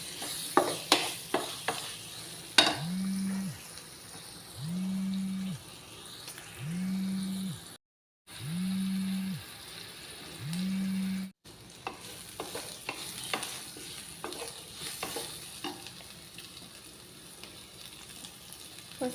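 Chana dal and soya pieces fry in oil with a faint sizzle and intermittent stirring clicks, while a cow moos in a series of low, drawn-out calls nearby, and no one speaks.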